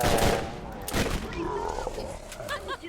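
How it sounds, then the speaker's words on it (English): Turret gunfire in the Borderlands shooter, rapid loud bursts of shots mixed with game effects and other chaotic noise, with a voice talking over parts of it. "Turrets, please don't shoot me."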